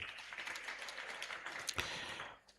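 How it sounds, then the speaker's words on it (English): Audience applause at an inauguration and investiture ceremony for a chairman: a steady, dense wash of clapping that holds for over two seconds, then tapers off quickly at the end. "Please, a round of applause for him."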